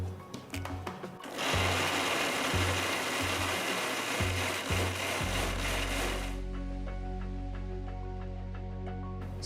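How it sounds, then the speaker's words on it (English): Mixer grinder pureeing chopped mango with sugar in a mixer jar: a few short motor bursts, then one loud sustained whirring run that settles into a steadier, smoother hum as the fruit liquefies. "I'm going to grind the chopped mango pieces in a mixer jar."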